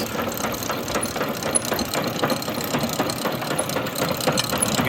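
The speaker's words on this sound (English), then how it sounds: "this is powered by a single phase electric motor. It runs off of 110 volts" A rebuilt Viking V2 grain cleaner with rotary drums, driven by a 110-volt single-phase electric motor, runs with a steady mechanical hum and a faint rhythmic rattle, even and continuous throughout.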